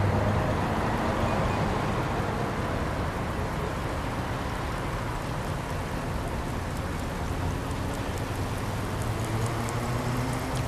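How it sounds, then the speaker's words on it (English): Rain falls steadily at the Port of Southampton, picked up by an outdoor port camera as a dense, even hiss that holds at the same level throughout, with no voices. "I don't think I've ever heard the rain before on the camera."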